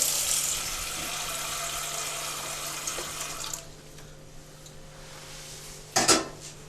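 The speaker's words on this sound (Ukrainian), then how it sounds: "Набираємо холодну воду." Cold tap water running into a pot in a home kitchen, a steady rushing stream that stops partway through, followed by a brief metallic clatter of the pot.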